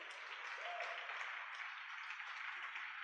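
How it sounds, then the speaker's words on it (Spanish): A church congregation applauds in a steady, faint wash of clapping that stays even throughout, sounding somewhat distant. "Y le pueden dar un aplauso al Señor"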